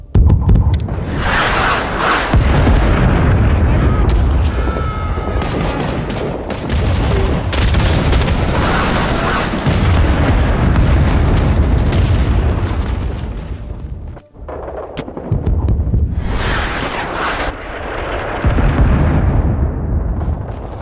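Loud, rolling artillery barrage explosions in the Vietnam War video game Rising Storm 2, with heavy booms and gunfire coming in dense waves that break off for a short lull and then start again.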